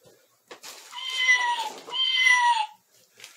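A recorded cat meow from a children's piano floor mat toy, a loud, close, electronic-sounding two-part meow with a short click before it and silence after.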